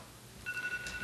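A telephone ringing during a city council meeting, a brief electronic trill that starts midway through, fairly faint against the room's low background hum.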